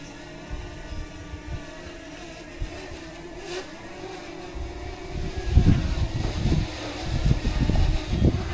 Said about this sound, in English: Wind's blowing quite a bit, but it's staying fairly steady